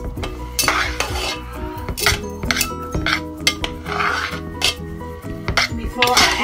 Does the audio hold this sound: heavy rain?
no